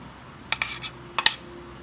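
Utensil clinking against a bowl while mixing garlic, ginger and onion for a raw fish salad of malasugi, heard as two short clusters of light clatters in an otherwise quiet kitchen.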